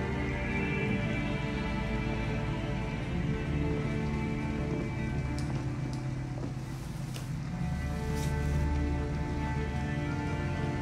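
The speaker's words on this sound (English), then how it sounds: "it's pouring rain" Heavy rain pours steadily onto surfaces in Detroit: Become Human, a constant dense hiss with faint scattered drips and a low vehicle rumble beneath.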